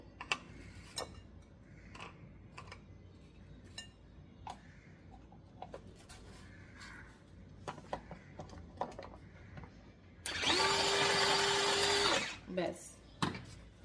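A mixer grinder chopping tomato roars loudly for about two seconds near the end. Before that come quiet clicks and handling noises, then a few knocks after the motor stops.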